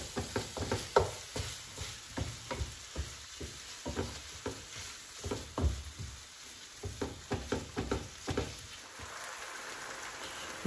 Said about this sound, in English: Brown our beef, mix it in with the onions.